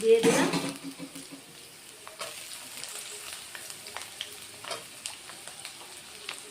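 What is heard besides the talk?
potato and pointed gourd frying in a pan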